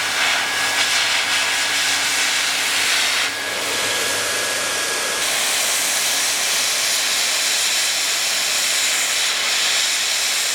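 A plastic welder hisses steadily while melting polypropylene into a cracked car bumper on a crashed Nissan R32 drift car, a continuous airy rush lasting throughout with a brief thin whistle early on and no talk.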